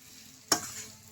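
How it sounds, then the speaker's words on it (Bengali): A single brief scrape of a spoon through cabbage and ghee in a pan, with a soft sizzle lingering afterward against quiet background. "ঘি দিয়ে আমি একটু বাঁধাকপির সঙ্গে মিশিয়ে নেব।"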